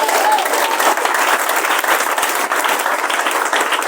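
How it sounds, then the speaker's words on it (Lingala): A church congregation bursts into loud, sustained applause and clapping at a Pentecost service, a dense, steady wall of hands from start to finish with a few voices mixed in. "est-ce qu'on peut acclamer pour la gloire de Dieu?"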